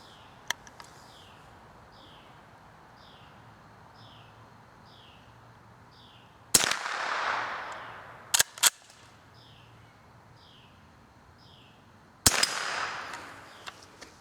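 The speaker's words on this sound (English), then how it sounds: "I'm going to be shooting at some steel targets down here" Sellier & Bellot CLUB .22 rounds fired at steel targets outdoors, two sharp loud cracks several seconds apart, each trailed by a brief ringing decay, with faint birdsong in the background.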